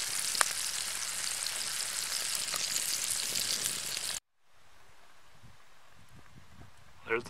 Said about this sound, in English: Frying up good now.